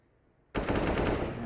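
Gunfire in the CS:GO video game during an ESL Pro League match, a sudden burst of rapid shots that starts after a quiet moment and runs continuously and loud.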